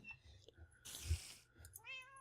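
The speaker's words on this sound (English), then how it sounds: "So I have one of each of the 3 different kinds of cats that we can see here." Cats in the video game Minecraft meow, with a soft meow early and a clear, higher mew near the end, separated by a brief burst of noise and quiet clicks.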